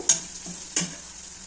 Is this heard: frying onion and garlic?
yes